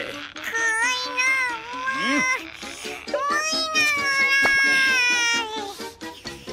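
Cartoon kitten meowing in the Chi's Sweet Home anime, a run of drawn-out, high, wavering mews and cries, loud and close, with a brief spoken line in between.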